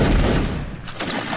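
A musket volley from a line of soldiers in a battle video game, one dense roaring burst of many shots fired together that fades out quickly, loud and close.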